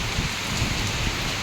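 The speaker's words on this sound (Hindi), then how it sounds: "बारिश पे बारिश आती हुई है" Rain falling steadily outside at dusk, a dense, even wash of drops pattering on surfaces close by, with no voices.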